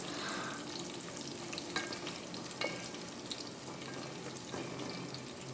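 Spices and ginger stir-frying in plenty of oil for chicken meatball soup, giving a steady close sizzle with occasional scrapes and taps of a utensil in the pan.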